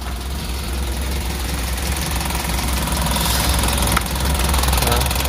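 A Suzuki Futura pickup's carbureted engine idles roughly nearby, with a continuous rattling knock from the rotor throughout and no voices.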